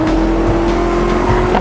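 A car engine in the video game Second Life drones loud and close as the vehicle speeds up, a steady revving tone with tire noise underneath.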